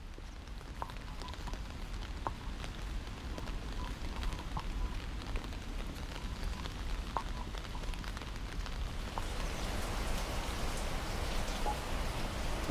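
Steady rain falls in Kyoto along a deserted riverside, a continuous close hiss of drops on wet surfaces with scattered sharper patters and no voices.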